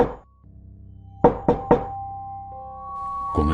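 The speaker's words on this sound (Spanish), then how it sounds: "oía un toc, toc que salía del baúl de ropa, como si alguien tocase desde adentro de la puerta del baúl" Three sharp knocks sound from inside a wooden clothes trunk, evenly spaced and close, over a steady low hum, with a thud at the end.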